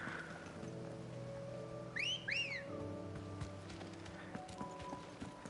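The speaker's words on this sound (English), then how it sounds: "I forgot that Clive's whistle to summon the Chocobo is the sex whistle." Clive whistles to summon a Chocobo in the video game Final Fantasy XVI, producing two quick rising-and-falling whistle notes midway. They sound over steady game ambience with a clip-clop of hooves.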